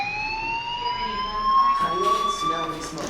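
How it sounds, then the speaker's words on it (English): A school fire alarm in the video game Life Is Strange rings steadily as a continuous electronic tone, loud and close, with some brief clattering sounds partway through. "do you hear that fire alarm? That means you should be outside."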